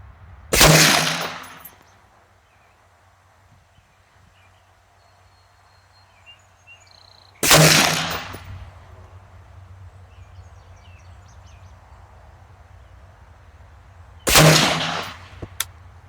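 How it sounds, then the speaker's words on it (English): A rifle fitted with an ATN X Sight 4K Pro 3-14x riflescope fires a three-shot group at a paper target, three loud, sharp cracks spaced several seconds apart, each with a short decaying tail, over a faint outdoor background of birds and insects. "So let's shoot a 3-shot group at the top left target"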